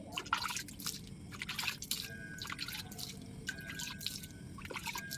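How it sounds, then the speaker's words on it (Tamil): Water poured in small amounts from a container onto rose cuttings set in soil, heard as close, irregular drips and light splashes with soft trickling between, fairly quiet and without talk. "கொஞ்சமாக தண்ணி விட்டுக்கோங்க."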